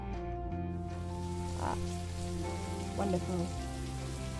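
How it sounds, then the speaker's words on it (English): Rain falls steadily in the video game Necrobarista, a soft constant patter under sustained musical tones, with a single short spoken word partway through. "Oh, it's raining."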